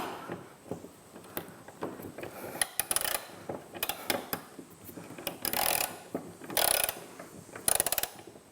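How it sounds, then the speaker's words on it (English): A ratchet tightening a bolt on a hood-mounted LED light bracket of a Ford F150 Raptor, close-up, with bursts of rapid clicking strokes separated by short pauses. "then we'll take our ratchet to get it the rest of the way"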